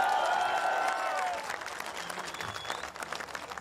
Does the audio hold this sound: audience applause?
yes